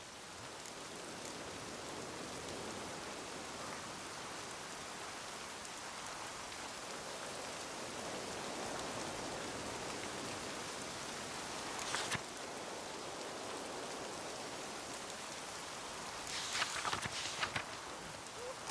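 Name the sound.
rain falling in the video game The Witcher 3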